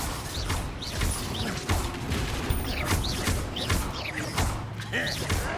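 An Incendio fire spell is cast in a video game duel against a goblin, heard as a crackling, rushing burst mixed with rattling mechanical clatter and sharp chirps, steady and dense for several seconds.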